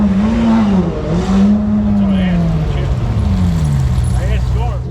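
Tuned McLaren 720S making around 1,400 horsepower, a loud close engine drone that rises and falls as it is revved, with a person talking over it.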